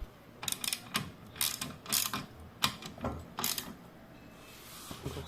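Ratcheting clicks from a 19 mm socket tightening axle nuts on the rear wheels of an AREBOS 3-ton hydraulic car jack, coming in several quick bursts of close mechanical clicking with short pauses.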